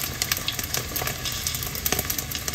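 Pork skin for chicharon deep-fries in hot oil, giving a dense, close, continuous crackle and sizzle with rapid pops throughout.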